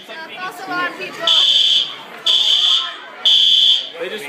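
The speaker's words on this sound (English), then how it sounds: "Oh, it's a false alarm." A fire alarm sounds in three loud, steady high-pitched buzzing bursts, each about half a second long, interrupting a dinner gathering while people chatter in the background.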